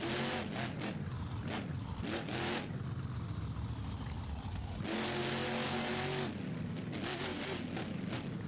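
The Megalodon monster truck engine in a BeamNG Monster Jam freestyle run revs hard in repeated surges, dropping and climbing again, loud and close with no voices.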